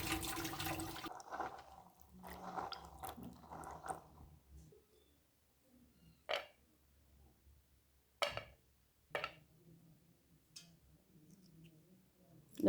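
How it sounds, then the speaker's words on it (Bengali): Water is poured off soaked beans in a brief splashing gush at the start, followed by faint drips and a few sharp knocks in a mostly quiet kitchen. "এরপরে পানিটা ফেলাই দিলাম।"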